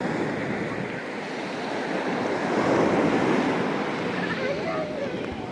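Steady surf washing onto a beach in Mersin, Turkey, a continuous broad roar with gentle swells and some wind rumble, no talking.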